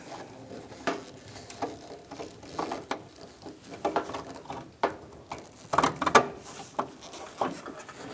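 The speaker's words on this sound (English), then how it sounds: "Now we're gonna feed our bolt through this one." A ratchet tightens a headlight bolt on a Ford E-350 Super Duty van, with quiet, irregular clicking bursts and small metallic taps heard up close.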